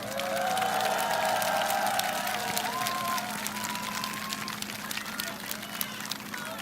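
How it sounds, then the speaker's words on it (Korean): Applause from the audience at a Korean political speech rally, a broad steady wash of clapping that carries from start to finish with crowd noise mixed in. "우리 두 분도 한번 박수 한번."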